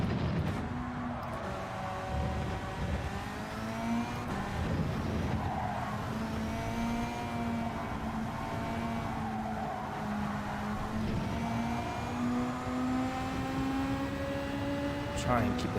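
Race car in Gran Turismo 7 driven with a Logitech G29 wheel, a loud continuous engine whine rising and falling through gears, with tire squeal as it slides, under a man's speech.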